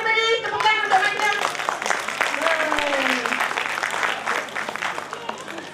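An audience at a kindergarten concert claps loudly and continuously in dense, close applause, with voices and some children's chatter mixed into the clapping.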